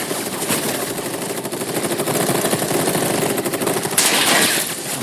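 Sustained heavy gunfire from an army in the video game Final Fantasy VII Rebirth, a dense rapid rattle of automatic weapons that keeps up without a break and swells slightly near the end, with no voices.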